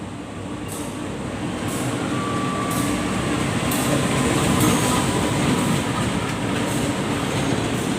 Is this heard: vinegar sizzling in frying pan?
no